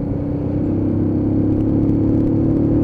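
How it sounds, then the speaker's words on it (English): A Keeway K-Light cruiser motorcycle's engine growls steadily up close as power is applied during a ride, a continuous low rumbling note that builds slightly toward the end with no talking. "that growl when you're putting the power on, absolutely lovely"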